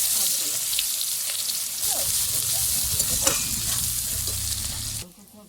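Onion fries in a wok over a black cumin tempering, a loud, close, continuous sizzle with stirring scrapes, cutting out abruptly near the end.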